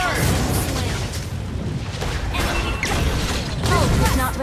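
Fiery blasts from Valir's Lava Burst ability in a video game, dense booming explosions and crackling impacts layered with game voice lines and constant battle noise.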